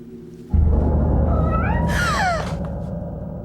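A cat yowls in a scene from the Ju-On horror film, a loud close meow that rises and bends downward over a low rumbling drone of eerie background ambience.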